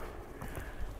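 Horse hooves drum steadily on the ground as a ridden horse is worked through changes of lead, a dense, continuous clatter over about a second.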